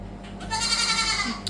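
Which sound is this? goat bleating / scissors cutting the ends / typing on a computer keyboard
goat bleating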